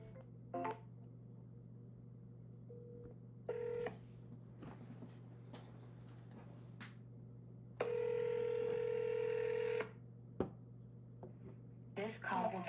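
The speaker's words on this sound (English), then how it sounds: "We're going to double dial them." Telephone keypad tones beep in short bursts, a long ringback tone sounds, then a second round of dialing follows; clear and fairly close, with faint talk in the background.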